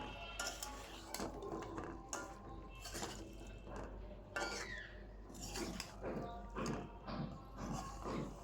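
A spoon stirring hilsa fish head and tail curry with Malabar spinach in a cooking pot, continuous close scraping and wet clinking of metal on the pot, rhythmic and fairly quiet, with no voices.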